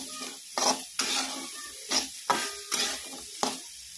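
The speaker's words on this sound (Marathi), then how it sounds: "नंतर घालायचं दोडका, मस्त असं परतून घ्यायचं" Ridge gourd sautéing in a pan, with a steady sizzle broken by several loud, scraping stirs of a spatula at regular intervals, close and clear with no talking.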